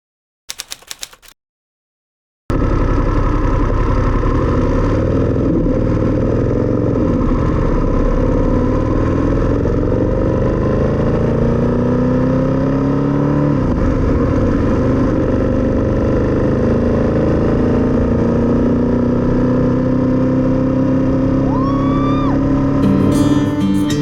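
Motorcycle engine on a solo road ride, the rider's first back on the road after a crash, running loud and steady close by after a brief start, with a gradually rising pitch as it accelerates and constant wind-like rumble throughout.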